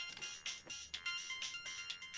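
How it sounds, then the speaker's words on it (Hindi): A mobile phone ringtone plays in a Hindi TV sitcom scene, a bright repeating electronic melody in short pulses, fairly clear with no talk over it. "देखो ना प्लीज, किसका फोन है? तुम्हारा फोन उठाओ ना यार।"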